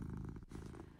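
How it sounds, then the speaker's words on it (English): A domestic cat purrs close by in a soft, steady rumbling pulse, quiet and intimate, with a brief break midway before the purr resumes alone. "These vibrations create that characteristic purring sound we all love and adore."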